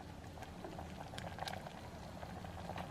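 Dal with garlic boils steadily in a pot, a dense simmering bubble and faint popping that runs evenly and close throughout, with no voices.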